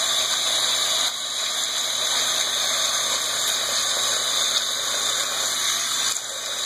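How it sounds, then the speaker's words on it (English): Tap water running steadily while a toy ball is washed with soap, a continuous bright hiss of flow close by with a slight change near the end. "Water."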